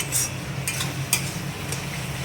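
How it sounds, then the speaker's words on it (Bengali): Spice masala for a mutton curry fries in oil in a pan, a close steady sizzle with a few light scraping stirs. "খানিকক্ষণ ভেজে নিই মশলাটা"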